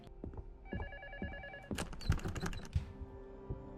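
A telephone rings in a psychological horror video game, its warbling electronic tone repeating over roughly one second, followed by a dense burst of clicking and clattering like rapid keyboard taps.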